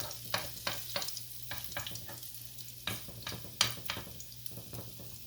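Hash browns frying on low heat in a pan, a steady sizzle with frequent scraping and tapping of a spoon as the pieces are pressed flat and shaped.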